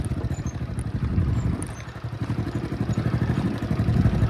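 A 15-year-old Honda CB110 motorcycle with its original, never-opened engine runs steadily, a continuous, close, rhythmic low putter with no voices.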